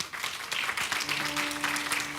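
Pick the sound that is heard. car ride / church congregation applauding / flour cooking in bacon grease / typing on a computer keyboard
church congregation applauding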